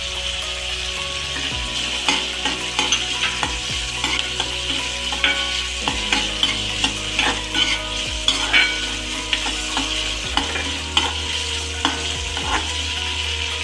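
Tomatoes and capsicum sizzle in a hot pan of fried onions for a vegetable Chinese pulao, with a steady busy frying hiss and repeated close scraping and clanking of stirring throughout.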